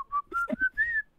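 A melodic whistle from a K-pop song, a short tune of four clear sustained notes with a brief low accompaniment in between, heard alone and fairly loud.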